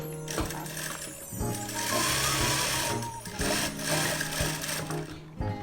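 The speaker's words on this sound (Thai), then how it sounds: "เย็บกระเป๋าอันนี้นะคะ ติดไปกับขอบได้เลย" A sewing machine stitches a welt pocket onto the edge of a bag, a loud, continuous mechanical whirr with a rapid needle rhythm and a few brief pauses, heard close up with no talking.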